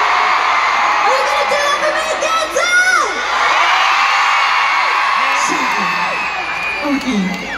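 A concert crowd at Gateshead on the Summer Hits Tour cheers and screams continuously, with high whoops and shrieks rising over a dense, loud roar of voices throughout.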